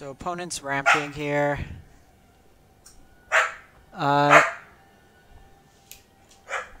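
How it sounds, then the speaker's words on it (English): A dog barks sharply indoors in a few short bursts with pauses between them, close to the microphone, and a voice talks quietly under it. "sorry about the dog"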